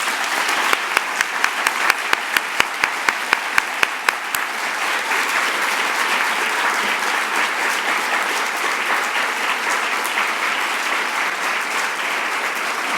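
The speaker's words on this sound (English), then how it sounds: "Let's give them a round of applause." An audience at a high school district governing board candidate forum gives steady, sustained applause, dense and even throughout, with a few sharp individual claps standing out near the start.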